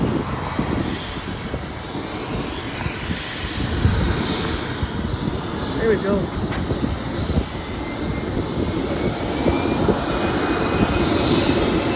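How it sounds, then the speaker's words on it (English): Airplane engines roar loudly nearby before takeoff at Hawthorne Airport, a steady, rumbling drone that builds slightly, while a voice briefly speaks over it. "That engine is very loud because of the planes."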